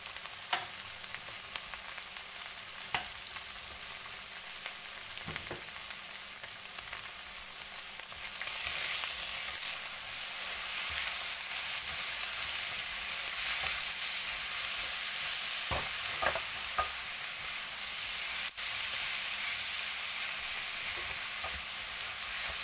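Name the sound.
eggs, onion and tomato stir-frying in a pan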